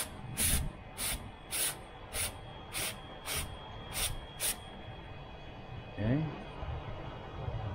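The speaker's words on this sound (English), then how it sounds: "let's spray here also" Cleaner sprayed onto a car's MAF sensor: eight quick, evenly spaced hissing bursts from an aerosol can, close and crisp, followed by a brief quiet rustle.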